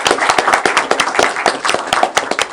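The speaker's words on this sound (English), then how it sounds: "I'd like to ask everybody to join me in giving Wade Hamner a round of applause." Brisk applause from a group at a council meeting, dense overlapping claps sustained for a couple of seconds with no talking.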